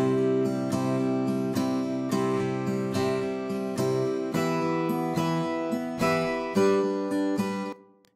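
MIDI acoustic guitar processed with EQ, compression and small-room reverb at about 20% wet strums a series of chords in an even rhythm, close and full, each strum ringing into a light room tail, with no speech.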